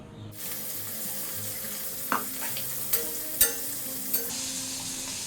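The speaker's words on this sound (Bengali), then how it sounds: "এবার কেটে রাখা ডুমুরগুলো এর মধ্যে দিয়ে দেবো এটা ভালো করে সিদ্ধ করে নেব" Chopped figs with a little turmeric cook in a pot of water, giving a steady, even hiss of bubbling with a few sharp clinks scattered over it.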